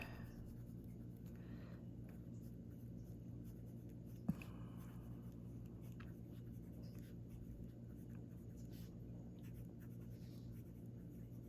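A Pilot Custom 823 fountain pen with a medium nib writes on paper, faint continuous scratching strokes against a quiet humming room, with one sharp tap partway through.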